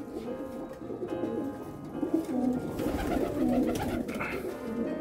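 Soft, low coos from Hyderabadi racing pigeons repeat a few times over steady background noise, with faint wingbeats and rustling nearby.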